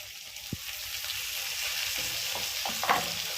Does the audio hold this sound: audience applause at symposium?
no